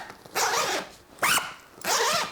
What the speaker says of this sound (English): Let's see how well it zips up with all this stuff in here.